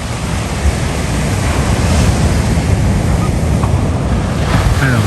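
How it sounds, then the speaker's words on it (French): Big ocean waves break on the beach at Trindade, Brazil in a loud, continuous roar of surf with heavy wind buffeting the microphone. "Alors il y a toujours des grosses vagues"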